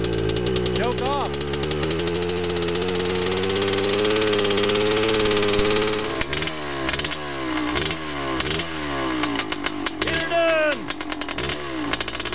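Motorcycle engine running loudly after the choke is shut off, revving unevenly and sputtering like a flooded motor, with steady engine drone and shifting pitch throughout as voices talk over it.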